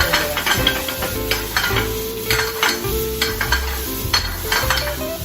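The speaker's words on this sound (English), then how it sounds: "add the garlic and the butter. Add the butter. Melting the butter" Butter and garlic sizzle in a pan with shrimp while a utensil stirs, giving repeated scraping strokes over a constant soft frying hiss, close and moderately loud.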